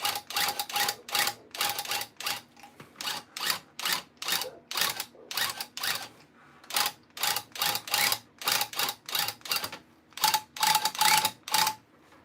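A handheld tufting gun punching yarn into burlap for a Christmas rug, with bursts of rapid mechanical clattering separated by brief pauses, loud and close throughout.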